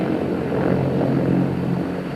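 A US Army Apache attack helicopter flying at the International Air Tattoo air show at RAF Fairford in 1993, a loud, steady rotor and engine roar with a slight throbbing pulse, close and continuous.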